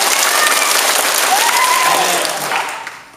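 Elementary school assembly children applauding on cue in a gym or hall, a loud dense burst of clapping that fades out at the end, with a faint voice or shout rising briefly in the middle.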